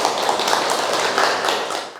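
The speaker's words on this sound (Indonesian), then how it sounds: "Tepuk tangan untuk teman kita." A class claps for a fellow student, steady many-handed clapping filling the room, fairly loud and continuous before tapering slightly at the end.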